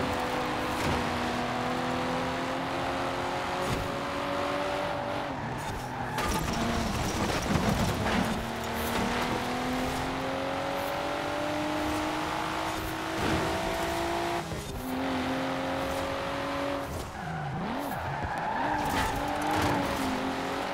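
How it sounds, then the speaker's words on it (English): A 1997 Nissan Skyline GT-R V-Spec engine in Forza Horizon 4 revs and climbs through gears, with tire squeal and skidding noises over a continuous engine roar. "pick the 97 Skyline GTR V-Speak, which sounds amazing"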